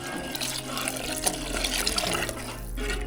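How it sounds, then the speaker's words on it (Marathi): Water is poured into a pot of Konkani-style crab curry, a steady splashing gush that runs throughout, close and fairly loud, with a faint low hum underneath. "याच्यामध्ये आता आपलं हे पाणी टाकून घेऊया"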